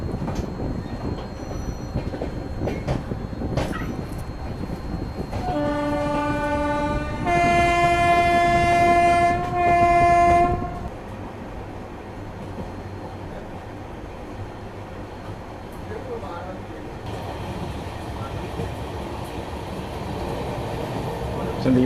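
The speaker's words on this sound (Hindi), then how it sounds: "सिर्फ 5 मिनट ट्रेन यहाँ पे रुकी और अपना डिपार्चर हो गया" Indian Railways train pulling out of Mau Junction station, with a long, loud, wavering horn blast over rumbling wheels, then quieter rolling clatter and squeals.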